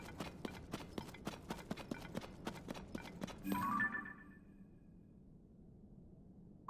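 Horse hooves from Tears of the Kingdom clop in a fast, evenly spaced gallop, around fifteen crisp beats up close, then cut off into a brief rumble and near silence with a faint tone.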